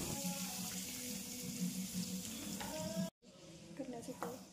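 Green chilies fry in hot oil for sabudana khichdi, a steady close sizzle with a few stirring sounds, briefly cutting out before the sizzling resumes more faintly.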